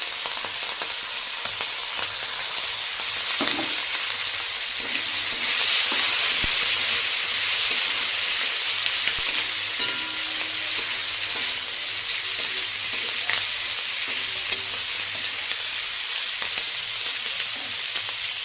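Potatoes frying with spring onion and chilli in a pan give off a loud, steady, hissing sizzle that runs unbroken, with occasional faint clinks of stirring.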